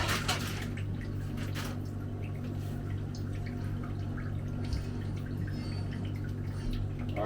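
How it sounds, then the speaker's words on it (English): Water dripping and trickling as it is bailed out of an overfull cooking pot on a Jamaican home stove, faint splashes and pours over a steady low background hum. "We'll bail some water over there."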